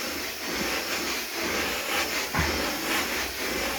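A Comforday steam cleaner hisses steadily and breathily at moderate level, a continuous rushing spray with slight surges, no voices.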